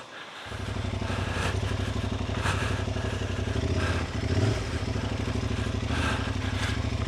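A Tuareg motorcycle engine running on a hill climb, a close, loud, steady rumbling drone that holds throughout with a slight surge and dip midway.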